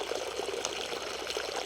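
Rainwater draining out of a flooded tunnel at a French chateau, a faint, steady trickling wash of water running continuously with no voices.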